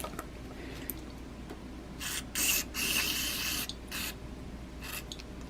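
Carb cleaner hisses from an aerosol can onto a McCulloch chainsaw carburetor in several short, close bursts, one longer spray in the middle, set against a faint background hum.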